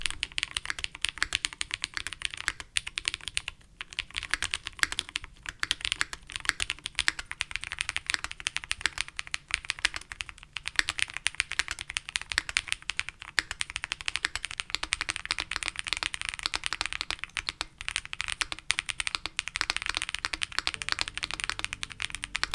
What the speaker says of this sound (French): je vous laisse avec les tests audio que j'ai réalisés avec ce nouveau clavier Freya.